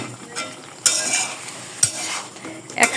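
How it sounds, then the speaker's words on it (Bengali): Raw jackfruit pieces dropped one by one into hot oil, each bringing a sharp burst of sizzling and spatter amid soft utensil scrapes and clinks, close and without speech. "আর এখনই আমি এই যে কাঁচা কাঁঠাল যেটা ইসরের জন্য, সেটা এখন দিয়ে দিচ্ছি একে একে করে।"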